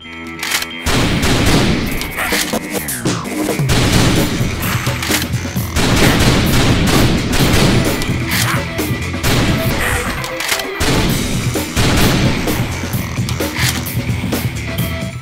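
Dense, continuous gunfire and explosive booms from the House of the Dead Overkill Extended Cut shooter, loud and nearly unbroken across the clip, with game music and effects layered underneath.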